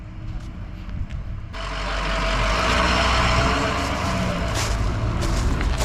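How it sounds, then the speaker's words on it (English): A car rolls in at a job site where an underground storage tank is being removed. Its engine noise rises from a quieter start into a sustained, close, loud roar with no talking. "Here comes the car, of course."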